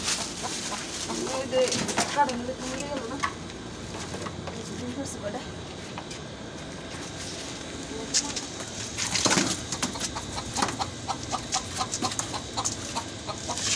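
Hens on a home poultry yard cluck faintly in the background while people talk nearby, with scattered rustles and thumps.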